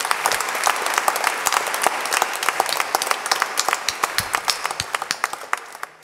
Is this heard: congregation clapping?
yes